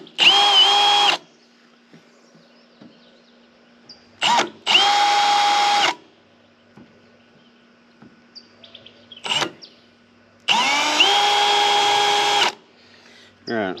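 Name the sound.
power drill drilling pilot hole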